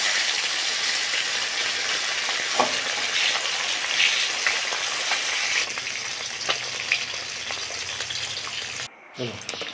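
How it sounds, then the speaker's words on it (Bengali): Koi fish fries in hot oil with a loud, steady sizzle, crackling spits, and a quieter stretch after the fish is turned, ending in a brief gap. "মাছের এক পিঠ ভাজা হয়ে গেছে, এবার উল্টে দেবো"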